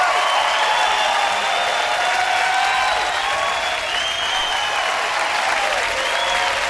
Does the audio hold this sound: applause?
yes